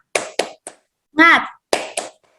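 A primary school class claps out the 'tepuk semangat' rhythm, a few sharp close hand claps in a short pattern, broken by a gap where a voice calls out, then two more claps.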